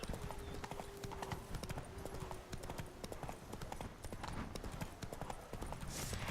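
Horse hooves clip-clop steadily in The Witcher 3: Blood and Wine, an even walking rhythm of close, crisp beats over a faint background.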